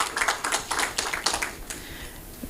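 A conference audience at a public interest litigation forum gives a short burst of applause, scattered hand claps that thin out and fade over a couple of seconds.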